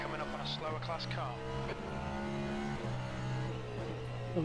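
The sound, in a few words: hypercar passing a slower GTE class car in Le Mans Ultimate video game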